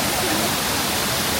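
Cambugahay Falls on Siquijor roars in a loud, steady rush of falling water that fills the whole brief moment.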